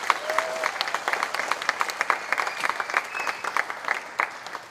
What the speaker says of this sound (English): Can we get one more round of applause for Miss Ella?